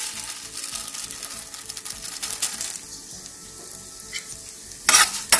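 Urad dal and fenugreek seeds fry in coconut oil in a pan, giving a close, soft sizzle with intermittent scraping as they are stirred, plus a brief sharper clink near the end.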